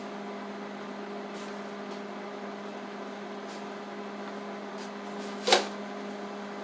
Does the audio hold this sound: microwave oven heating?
yes